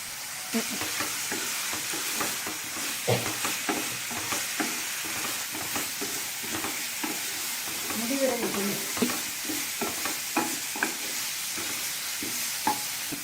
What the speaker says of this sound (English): Okay, just stir this up.